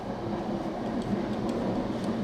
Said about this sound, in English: There's a train going by the sounds of it